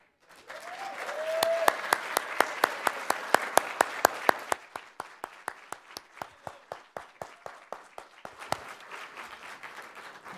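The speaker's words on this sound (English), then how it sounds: "let's welcome all of our participants to the stage for another round of applause" An audience at a state poetry recitation final applauds the participants, the clapping swelling quickly, holding steady with sharp individual claps standing out, then gradually thinning and tapering away.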